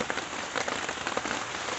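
Steady rain pattering on a tarp rigged as a rain catch along the Potomac, a dense even hiss with scattered soft drop taps, close and continuous with no voices.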